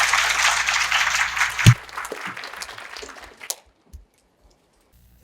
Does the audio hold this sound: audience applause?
yes